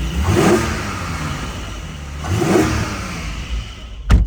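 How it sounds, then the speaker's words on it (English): A Porsche 718 Cayman GTS petrol engine revs twice, each throttle blip rising into a throaty roar and settling back to a rumbling idle, close and loud. "start her up. Nice, now hear that. I'm not going to rev it too much"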